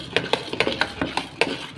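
Ground lentils being stirred into jaggery syrup in a pot, heard as quick, regular scrapes and knocks of a spoon against the metal, close and alone.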